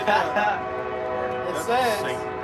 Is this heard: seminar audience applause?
no